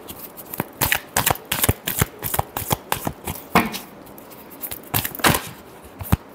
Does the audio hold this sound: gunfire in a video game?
no